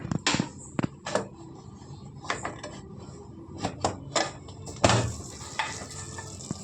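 A pressure cooker holding chicken biryani is opened. Sharp metallic clanks and knocks from the lid and pot ring out close by, scattered irregularly with short quiet gaps between them.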